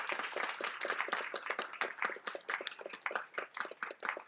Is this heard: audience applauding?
yes